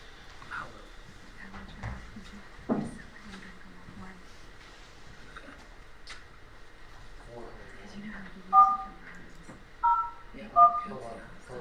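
Telephone keypad tones sound during a courtroom phone call in a murder trial: several short, distinct beeps near the end, following quieter talk and background murmur.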